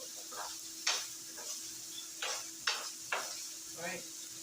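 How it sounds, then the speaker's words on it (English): Zucchini being turned and sautéed in a still-greasy skillet, with a soft steady sizzle broken by several sharp scrapes and clinks of a utensil against the pan, close by. "Saute them on here on the skillet."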